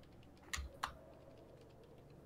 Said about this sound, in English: I tried to type as you were talking.